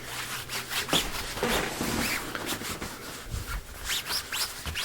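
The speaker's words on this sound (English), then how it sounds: "So now I got to clean off this residue, which comes off very easily," A cloth rubs residue off a Red Lion Precision handguard on a Kel-Tec Sub 2000 rifle in quick, close scrubbing and wiping strokes, with small scrapes and light knocks mixed in.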